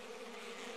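Steady buzzing of bee drones in the Madagascar jungle video game, a continuous close insect drone with no break and no talk over it.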